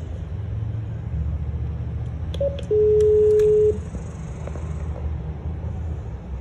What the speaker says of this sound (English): We'll use the intercom.